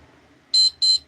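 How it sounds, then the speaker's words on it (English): A countdown timer alarm sounding at the end of an online auction's bidding, two loud, high electronic beeps in quick succession over a quiet room. "let me turn off the timer"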